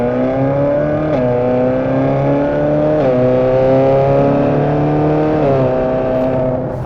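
Ferrari California 4.3 V8 heard from inside the cabin with the roof on, a loud, steady engine drone with strong harmonics that rises through the revs, dips briefly at each of three quick F1 DCT gear changes and climbs again.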